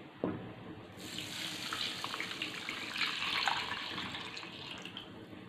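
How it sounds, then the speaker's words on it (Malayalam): Two cups of thin second-extract coconut milk pour into a pot of Kerala fish curry, a steady close liquid splash and gurgle starting abruptly and running for several seconds without talk. "രണ്ടാം പാൽ ഒഴിച്ചു കൊടുത്തിട്ടുണ്ട്."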